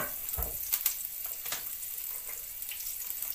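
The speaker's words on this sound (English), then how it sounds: "So the oil's hot up now in the pan, so again, put a medium flame, type in the onion." Onions hit hot oil in a pan over a medium flame, giving a steady close hiss and crackle with a few stirring clunks at the start.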